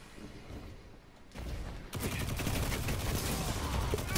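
Loquitor IV weapon firing in a Crucible match of the video game Destiny 2, a dense continuous burst of gunfire that starts quieter and grows louder and steady after the first couple of seconds.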